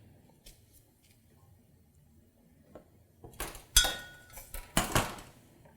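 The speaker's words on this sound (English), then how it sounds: "spoon to clean my avocado." A metal spoon scrapes out an avocado half, several close, sharp scraping and clinking strokes in quick succession after a few quiet seconds of faint handling noises.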